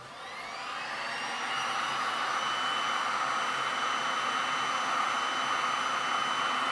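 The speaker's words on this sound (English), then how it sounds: "I'm about to get my regular heat gun now" A regular heat gun blowing hot air onto resin artwork gives a steady whirring hiss that ramps up in the first second, then holds at an even, close, constant level with no voices.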